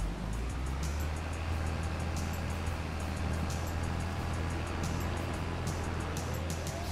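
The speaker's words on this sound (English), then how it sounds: "This tractor's pretty quiet." A tractor engine idles in Farming Simulator 22 on the Iowa Plains View map, a steady low drone that is fairly quiet, with faint rhythmic ticking above it and no voices.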